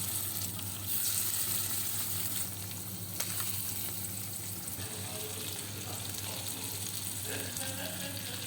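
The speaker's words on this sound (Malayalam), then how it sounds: "അപ്പോൾ ഞാൻ അത് വറുക്കാനിടുക" Marinated fish frying in a pan at home, a steady close crackling sizzle that runs unbroken throughout, with faint kitchen clatter and a low hum beneath it.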